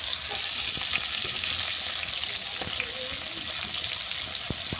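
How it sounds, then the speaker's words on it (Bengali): A fish head fries in hot oil in a pan, giving a steady, dense sizzle with occasional crackles and faint clinks, continuous and close with no talk. "মাছের মুড়োটা এদিকে ভাজা হতে থাক"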